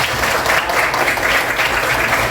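A classroom of students claps for a classmate, a dense, continuous burst of applause lasting a couple of seconds, close and fairly loud.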